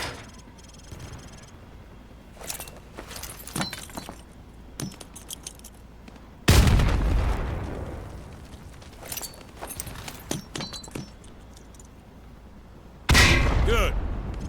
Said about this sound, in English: Toss the grenade down the range to take out several targets at once.